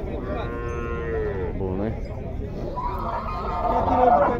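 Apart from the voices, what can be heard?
young bull mooing at a cattle fair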